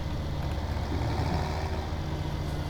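A tractor engine in Farming Simulator 2017 drones steadily at a low pitch, pulling away with a continuous, even rumble and no talk over it.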